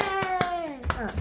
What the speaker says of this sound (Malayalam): കൈയടിക്കാൻ